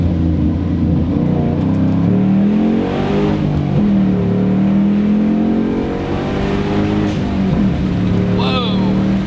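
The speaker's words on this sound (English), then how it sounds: "Traction control kicked in and dead hooked." A 2005-2009 Ford Mustang GT launches hard through first gear into second, its engine note sweeping up loud and close in rising strained harmonics before shifting, traction control briefly cutting in.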